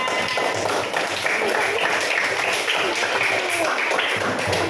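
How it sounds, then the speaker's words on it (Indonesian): Students applaud together in a classroom during a lesson observed by the school principal, a steady dense patter of many hands clapping for several seconds with no break and little else heard. "Kasih tepuk tangan."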